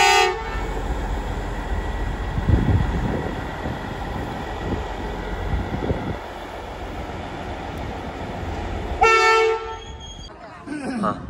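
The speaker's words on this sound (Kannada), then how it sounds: "ನಮ್ಮ ಟ್ರೈನ್ ಬರ್ತಾ ಇದೆ ಇವಾಗ" An Indian passenger train pulls into a station with a loud sustained rumble and rolling clatter of wagons, a horn blast sounding near the end.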